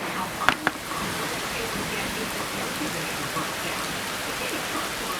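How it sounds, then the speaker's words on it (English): Heavy rain pours in a steady, even hiss during an August storm that overwhelms the gutters, with a couple of brief knocks near the start. "That's a lot of rain."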